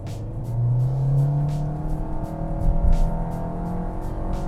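A 2022 Fiat Strada Ranch with a 1.3 engine and CVT automatic pulls away hard from a stop. The engine drone is loud and steady from inside the cabin, rising smoothly with only slight shifts in pitch.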